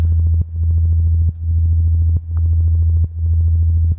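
A deep, buzzy synth bass in a dubstep style plays sustained notes in a steady rhythm, with brief gaps between phrases and a slightly muffled, filtered tone.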